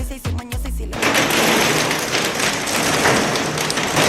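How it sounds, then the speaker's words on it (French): Hail pelting down outdoors in Seville, a dense, steady hiss of hard ice patter that starts abruptly after about a second of brief talk and low thumps, then stays loud and continuous. "Ah mais il grêle."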